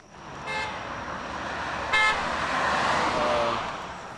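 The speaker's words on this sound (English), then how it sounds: "Honk and join." Car horns honk twice, one short toot near the start and another about two seconds later, over steady roadway traffic at a street-side vigil protesting CIA torture.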